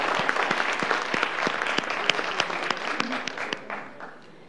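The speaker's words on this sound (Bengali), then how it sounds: "আমরা বদরুন্নেসা সরকারি কলেজের জন্য সবাই জোরে আবারটা তালি দিতে চাই।" A room full of spectators applauds a Badrunnesa Government College debate team at a televised parliamentary-style debate competition, with dense, steady clapping that thins out and fades away at the end.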